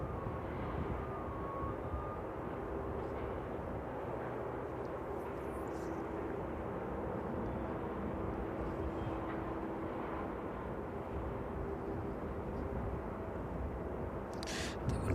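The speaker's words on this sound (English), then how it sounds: "catch that one as it lands into East Midlands this evening" A jet airliner lands at East Midlands Airport in the evening, its low, steady engine roar rumbling continuously and fairly loud, with no clear rise or fall across the whole stretch.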